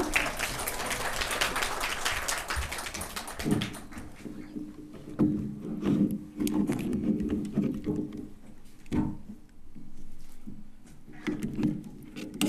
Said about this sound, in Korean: 모두 환영의 박수 부탁드릴게요